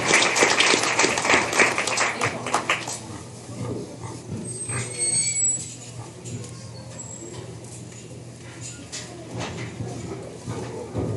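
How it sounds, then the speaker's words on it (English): A crowd at a 4-H/FFA swine show claps in a loud burst for about three seconds, then the applause fades into quieter room murmur and scattered noise. "Let's give all one more big round of applause."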